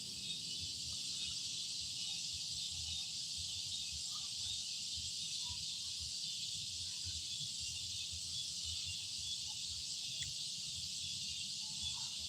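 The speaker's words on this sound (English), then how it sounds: "can sit here all night listening to them there cicadas and katydids" Cicadas and katydids chirp through a night, a steady high buzzing drone that holds unbroken from start to finish, with faint low rustling and murmur underneath and no voices.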